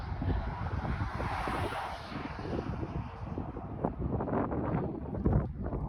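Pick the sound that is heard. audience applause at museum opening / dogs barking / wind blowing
wind blowing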